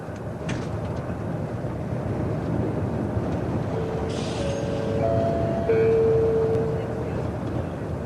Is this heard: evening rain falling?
no